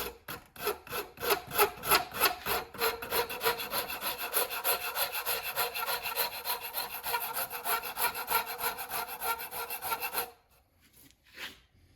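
A Shinto rasp files a wood axe handle in fast, rhythmic rasping strokes for about ten seconds, loud and close, then stops and leaves a few lighter scrapes.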